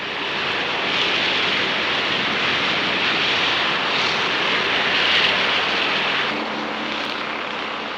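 A Helostat heavy-lift hybrid, a surplus Navy blimp envelope fitted with four surplus helicopters, roars during a hover test on a runway, a steady broadband rotor and engine drone that swells slightly midway and continues without speech.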